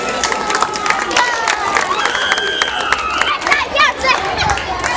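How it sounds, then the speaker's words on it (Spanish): A crowd at a school presentation claps, cheers and whoops loudly, with excited shouts and chatter layered over the applause and voices talking through it. "¿Dónde están los aplausos?"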